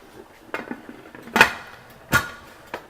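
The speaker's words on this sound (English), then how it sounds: "Now we're just going to put these here into our pressure canner. Okay, and we're going to put the lid on" A metal lid is set onto a pressure canner, producing a few scattered, close clanks and scrapes, with two louder metallic knocks standing out against a quiet kitchen background.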